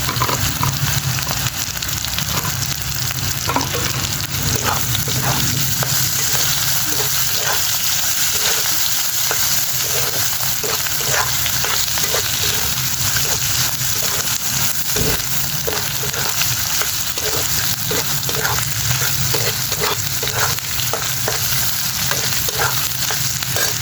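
Shrimp and leafy red amaranth greens frying in a pan with a steady, dense sizzle throughout, punctuated by regular scraping and stirring strokes of a spatula close by.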